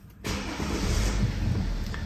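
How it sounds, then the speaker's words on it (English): A BMW engine starts with a sudden onset and settles into a steady, close idle rumble inside the car, with no talk over it. "let's start the engine."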